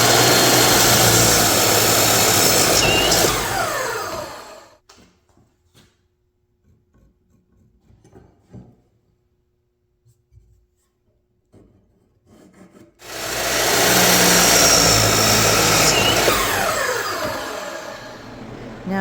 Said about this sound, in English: I'm going to be cutting the edge on each piece at a 45-degree angle